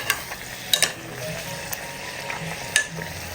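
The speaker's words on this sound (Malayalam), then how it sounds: "ഈ വശവും ഇതുപോലെ ചെറിയൊരു ഗോൾഡൻ നിറാവുന്നത് വരെ നമുക്ക് തിരിച്ചു മറിച്ചുവിട്ട് ഒന്ന് ഫ്രൈ ചെയ്തെടുക്കാം" Puri frying in hot oil inside a pressure cooker, a steady close sizzle with a few sharp clicks and scrapes as the bread is flipped, no voices.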